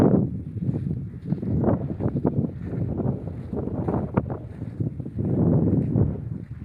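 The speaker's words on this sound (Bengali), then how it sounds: "হাওয়াটা উঠেছে।" Wind buffets the microphone in steady low rumbling gusts beside the Damodar River under cloudy skies, rising and falling throughout, with a faint hint of open water and no talking.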